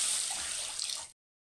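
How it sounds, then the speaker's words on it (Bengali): Two cups of water poured into a pan holding eight tablespoons of sugar for a syrup: a short, steady splashing pour close by that stops abruptly after about a second. "তারপর দিলাম 2 কাপ জল।"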